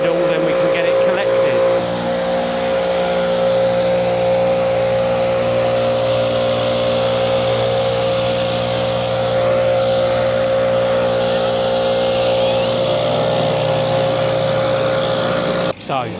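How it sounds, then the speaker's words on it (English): Backpack leaf blower blowing scarified lawn debris into a pile, a steady loud engine drone with a constant pitch that runs unbroken for about sixteen seconds and then cuts off abruptly. "getting the backpack blower, getting this all blown into the middle, then we can get it collected"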